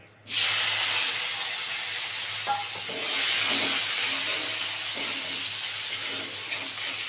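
Tomato dropped into hot oil tempered with asafoetida, a loud steady sizzle and hiss running throughout with a few soft clinks of utensils underneath, no voices.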